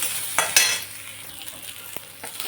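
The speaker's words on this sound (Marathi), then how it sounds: "कांदा फ्राय होतोच आहे." Chopped onion frying in oil in a pan for masale bhaat, a steady close sizzle broken by a few sharp scraping stirs near the start and scattered spoon clicks later, no voices.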